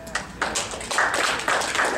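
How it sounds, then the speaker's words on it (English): Brief burst of audience applause at an Oregon U.S. Senate debate, a dense patter of clapping hands filling the short moment. "For people who are listening, there was applause"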